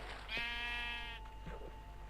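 A single sheep in Minecraft bleats once, a wavering nasal cry over faint background hum, followed by a couple of soft thuds.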